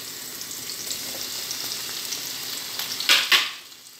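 Garlic frying in a pan for stewed mushrooms, a steady dense sizzle throughout with a couple of sharper crackling bursts near the end, close and fairly loud with no talking.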